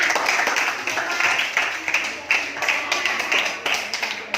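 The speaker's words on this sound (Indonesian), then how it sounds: "Ayo, tepuk tangannya." Children in a classroom clap their hands together in a brief burst of uneven, overlapping claps, with some chatter mixed in underneath.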